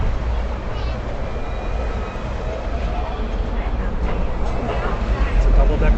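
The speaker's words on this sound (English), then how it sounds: "It's a double-decker tram." A double-decker tram runs through Hong Kong streets with a loud, continuous rumble and rolling rattle from the ride, building slightly toward the end.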